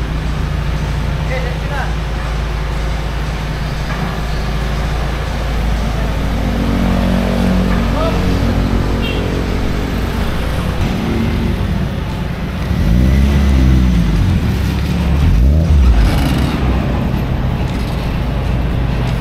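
A Toyota Corolla AE92 with a 4AF engine and JDMufflers exhaust rumbles steadily, swelling into a couple of louder revs near the end, a deep, continuous drone heard close by.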